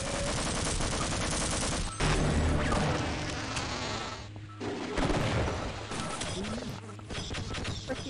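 Automated turrets firing in the Half-Life: Field Intensity mod, a loud, continuous stream of rapid shots with buzzing weapon noise and a few brief lulls, with a voice occasionally heard underneath.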